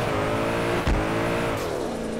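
A drift car engine in the racing game DRIFT21 drones steadily with harmonic whine, a brief sharp burst near the start, then the pitch shifts as the engine changes revs.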